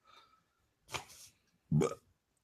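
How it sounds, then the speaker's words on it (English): A person burping during a wrestling review show, with a soft lead-in noise, then a short gurgle and a louder, rougher belch close to the microphone, alone without talk. "Let that burp rip."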